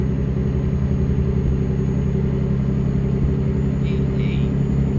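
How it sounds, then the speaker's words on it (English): Steady, loud low rumble of a truck engine in American Truck Simulator, droning continuously throughout, with a faint high chirp near the end. "I'm having trouble hearing over the truck engine"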